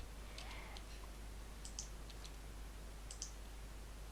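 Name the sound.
computer mouse double clicking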